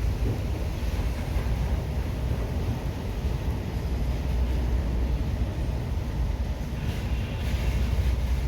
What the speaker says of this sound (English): Both trains are trying their best as they pass one another and keep going